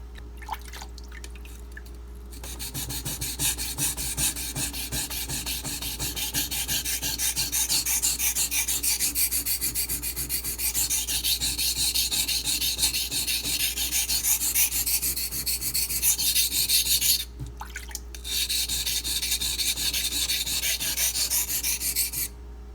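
A knife blade is rubbed back and forth on a Pride abrasive water stone, giving a continuous wet rasping scrape close up for about twenty seconds, broken by brief pauses between strokes.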